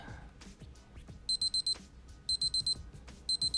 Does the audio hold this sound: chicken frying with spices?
no